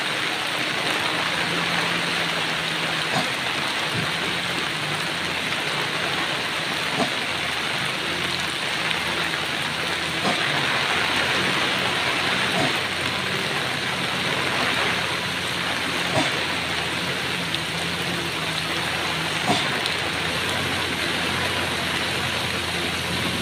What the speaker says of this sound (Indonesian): Ini hujan ini teman. -teman.